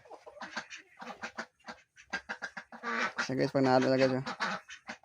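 Pet ducks (itik) being fed azolla quack and chatter together, a busy flock sound that swells toward the middle, with someone talking over it throughout.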